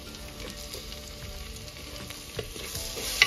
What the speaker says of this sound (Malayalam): തക്കാളി വേവുന്നത് വരെ ഇളക്കി കൊടുക്കുക.